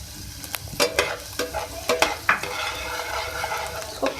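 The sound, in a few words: chopped garlic frying in oil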